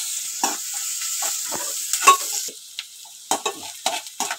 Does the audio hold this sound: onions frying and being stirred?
yes